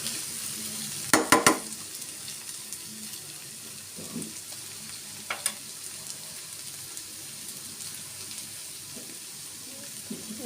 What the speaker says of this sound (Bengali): আমার ভাজিটা হয়ে আসছে, বেশক্ষণ লাগবে না।